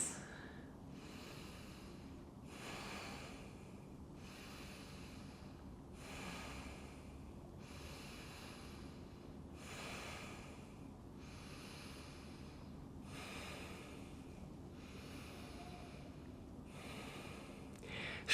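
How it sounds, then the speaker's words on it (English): Slow, steady deep breathing during a beginner yoga practice, about eight soft airy inhale-exhale cycles in an even rhythm, close and fairly quiet, with no talking. "A few deep breaths."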